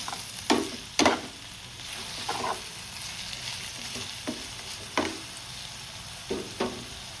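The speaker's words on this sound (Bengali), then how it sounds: "ভাজা মোটামুটি হয়ে এসছে, বেগুনটা আর একটু হলেই নামিয়ে দেবো" Eggplant sizzles in a pan with a constant hiss, broken by several sharp scrapes and knocks of a spatula stirring at irregular intervals.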